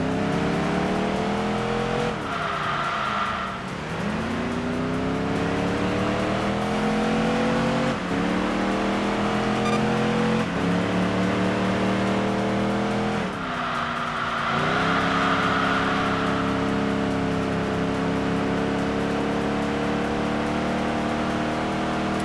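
RGT race car engines from Enthusia Professional Racing drone and rev continuously, pitch sweeping up and down through gear shifts, with occasional tire squeal and no talking.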